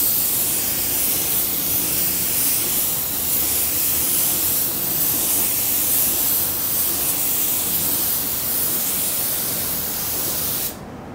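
A 3M Performance spray gun with a 1.2 tip hisses steadily as it sprays paint, a continuous dense airy spray held for about ten seconds before cutting off near the end.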